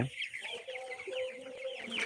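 Faint Colour Bird chickens on a poultry farm clucking and chattering softly in the distance, a continuous low flock murmur with no voices.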